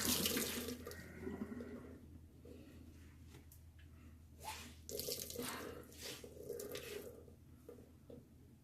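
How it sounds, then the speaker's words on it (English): A rag is soaked under a running tap of warm water, with a steady faucet stream and splashing into a sink, plus brief drips and water bursts toward the end. "I take a towel, a rag, wet it in warm water, and just take the excess off"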